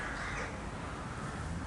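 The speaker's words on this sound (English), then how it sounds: "the crows are all sort of doing crowy sort of things" Crows cawing in the morning sun along a quiet country road near a French market town, a diffuse chorus of harsh calls heard from a distance with no one talking.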